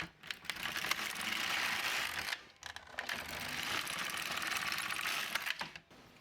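An LK150 knitting machine carriage drawn across the needle bed for two plain rows: two sustained whirring, ratcheting sweeps separated by a brief pause, close and loud with no talking.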